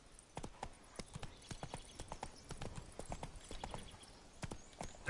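Roach the horse galloping in The Witcher 3, a quick, uneven run of hoof clip-clops close up, with a faint voice now and then underneath.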